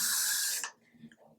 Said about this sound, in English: I'm going to take my freeze spray and I'm going to spray a little bit